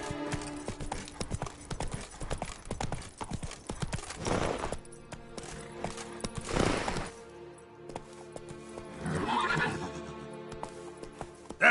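Roach, a horse in The Witcher 3, gallops with quick clip-clopping hooves and lets out several loud neighs and whinnies at intervals, fairly close and without talking.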